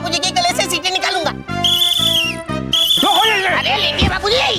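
A shrill whistle-like tone forced from a man's throat during a comic wrestling scene in a fantasy TV show, rising and falling in bursts alongside loud, playful sound effects and music.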